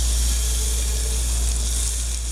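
Butter sizzles steadily in a hot pan turned down to medium after searing beef for a slow cooker pot roast, a constant close frying hiss with no talking.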